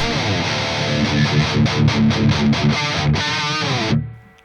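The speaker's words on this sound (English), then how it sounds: "Basically, it's a 5150 with a tube screamer in front of it," Heavily distorted electric guitar through a 5150 amp with a Tube Screamer pedal in front chugs through a tight, palm-muted riff with sharp stops, loud and saturated, then rings out and fades.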